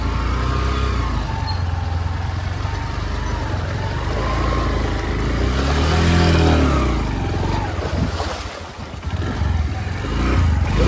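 Honda Shine motorcycle ridden off-road through water, engine droning and revving loudly and continuously with rising and falling pitch, close by, with no voices.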